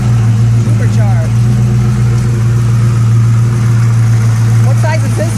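A supercharged 600-horsepower car engine idles with a steady low rumble, loud and close throughout, while people talk over it.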